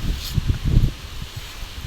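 Gusty wind rustles through leaves beside rice fields in soft, uneven bursts, with low buffeting rumble against the microphone, loudest early and easing off.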